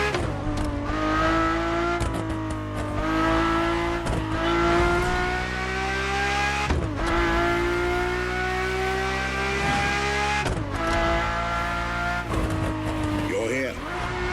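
Ferrari F40 and F50 racing in a video game: engines rev and climb through the gears, with abrupt shift breaks and a steady high engine whine. A voice talks over the engine noise.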